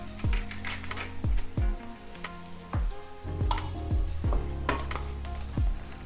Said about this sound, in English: And you see we are cooking very slowly, but the butter is melting very slowly.